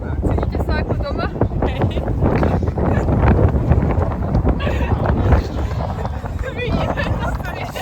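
Strong gusty wind buffets the microphone outdoors in a loud, continuous roar with rumbling bursts, while people talk through it.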